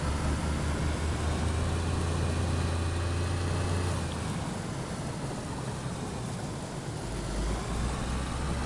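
A car engine in the DayZ video game, heard from inside the cabin: a steady, muffled low drone with a constant hum that shifts pitch near the end, loud and unbroken, with no talking.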